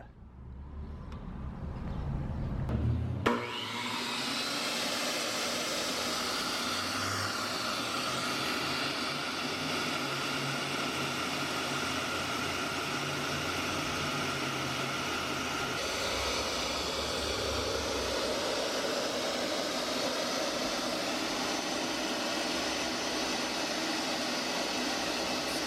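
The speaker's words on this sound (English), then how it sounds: "We first rip a porcelain plank." A BEAST 10-inch wet tile saw rips through a porcelain plank, starting with a sharp onset and then grinding at a steady, loud, hissy whine that holds for over twenty seconds, close by with no talking.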